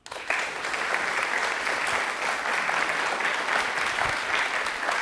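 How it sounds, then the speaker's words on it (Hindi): Steady, loud applause from a studio audience at a televised yoga programme, continuous and dense for several seconds with no talk over it. "एक बार अभिषेक जी के लिए जोरदार तालियां होनी चाहिए प्लीज"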